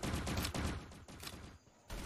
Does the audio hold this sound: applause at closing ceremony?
no